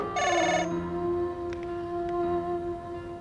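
A telephone rings indoors with a short electronic trill burst, followed by a sustained tone and faint clicks, moderately loud and alone without speech.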